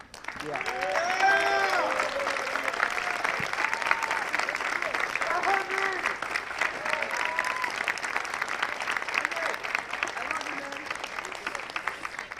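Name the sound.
round of applause at commencement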